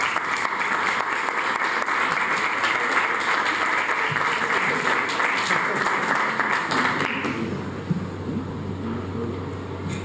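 Loud, steady applause from an audience at a law-book presentation in a university faculty hall, sustained for about seven seconds before it drops away into a low murmur and voices.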